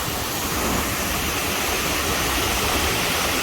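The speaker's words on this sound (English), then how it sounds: "So this is the lower force fall, by far what seems the most powerful." Lower Force at Aysgarth Falls in the Yorkshire Dales, a powerful waterfall with a big drop, roaring as a loud, steady, close wash of rushing water that fills the whole clip without a break.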